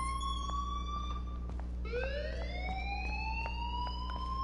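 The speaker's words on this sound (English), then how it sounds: "please turn off that alarm since that's your job" An electronic alarm rings in the video game Life is Strange as a series of rising and sustained whooping tones over a steady low hum, repeating and fairly prominent throughout.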